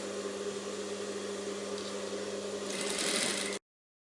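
A sewing machine runs steadily while stitching blouse fabric, a continuous close mechanical hum with a brighter, faster burst near the end before it stops abruptly.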